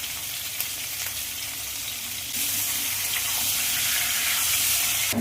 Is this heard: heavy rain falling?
no